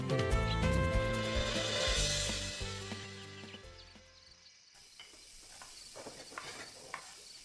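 Banana flower curry being stirred and fried in a pan, loud sizzling with scraping stirs that fade to softer crackles and a few clinks.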